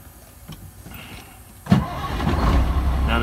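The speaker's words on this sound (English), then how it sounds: "I'm gonna start it right back up." A truck with an ignition fault cranks and catches after a quiet pause, then settles into a steady, close idle.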